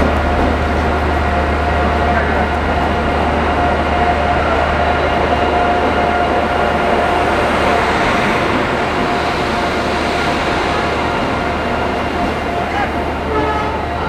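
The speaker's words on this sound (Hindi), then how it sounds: "तो फाइनली अगरतला तेजस राजधानी जो है वो आ चुकी है, और ये प्लेटफॉर्म नंबर 1A पे शायद आई है।" The Agartala Tejas Rajdhani train pulls in at a railway platform, its steady heavy rumble and low engine drone filling the air, with a faint horn-like tone and station ambience throughout.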